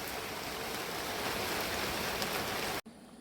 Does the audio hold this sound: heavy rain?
yes